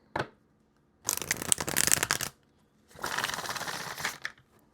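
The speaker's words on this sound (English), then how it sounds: "One more quick shuffle." Two bursts of tarot card shuffling, each riffle lasting over a second with crisp rapid flutter, close and clear, separated by a brief pause.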